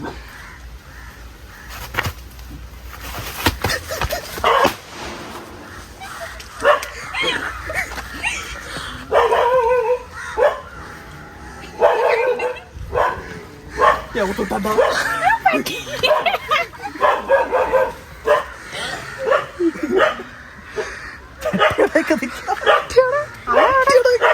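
A pet dog barks, yips and whimpers in repeated short bursts, close by, with people talking around it.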